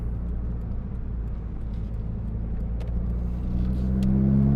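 Nissan Pulsar GTI-R heard from inside as the engine pulls under boost, a steady close low drone that rises and grows louder toward the end. No voices.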